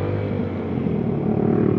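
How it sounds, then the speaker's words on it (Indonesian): Deep, steady exhaust burble of a bored-up fuel-injected Yamaha Mio scooter at idle, rumbling with a slight rise in engine revs toward the end. "Jujur ini suara knalpotnya enak banget."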